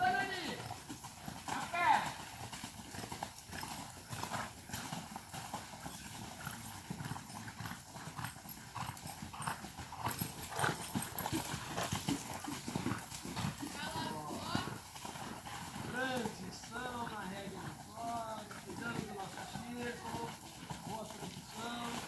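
Horse cantering during show-jumping training, with steady rhythmic hoofbeats on the arena footing heard under continuous talking throughout.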